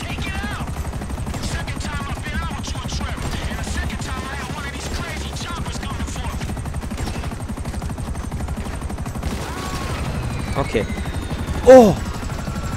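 Continuous rhythmic thumping of helicopter rotors under steady game noise in GTA V, with a voice talking over it and a brief loud burst near the end.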